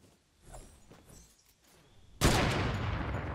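A sudden burst of loud, dense gunfire erupts after a quiet stretch and continues steadily, rapid shooting in Fortnite.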